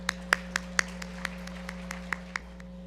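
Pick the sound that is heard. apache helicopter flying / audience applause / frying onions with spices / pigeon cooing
audience applause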